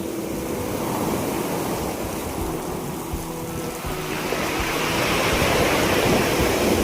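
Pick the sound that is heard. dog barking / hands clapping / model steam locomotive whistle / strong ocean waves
strong ocean waves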